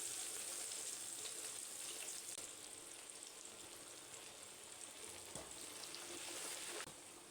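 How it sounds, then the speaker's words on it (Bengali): Thinly sliced onions fry in hot oil with a bay leaf, cardamom and cinnamon, giving a faint, even hiss of sizzling that holds steady with no talking. "পেঁয়াজটাকে আমি ভালো করে ভেজে নেব।"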